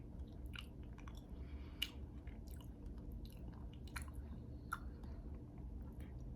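Crunchy Canadian chocolate candy bar being chewed close up, quiet crisp bites and crackles repeating irregularly over a soft low background.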